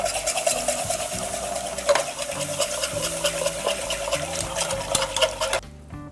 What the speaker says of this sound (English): To that roux, I'm gonna whisk in my milk.